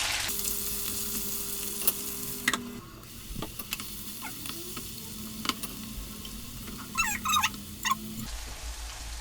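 Chopped onions and green peppers sizzle in a pan over fried potatoes and carrots, a steady close frying crackle punctuated by stirring scrapes and clinks.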